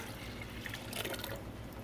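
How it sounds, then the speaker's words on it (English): Liquid is poured over boiled brine in a pot during Thanksgiving kitchen prep, a soft, steady splashing pour with a few brighter drips, close and low in level with no talk. "Now I'm going to pour it over the brine that we boiled."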